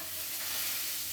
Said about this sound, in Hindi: प्याज अच्छे से हमें भून लेना है